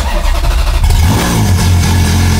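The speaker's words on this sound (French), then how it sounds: "Ça va faire un petit démarrage au froid, ça va faire plaisir ça." A Ferrari 430 Scuderia with a Capristo exhaust cold-starts and revs briefly, then drops into a high, loud idle, heard up close with no voices.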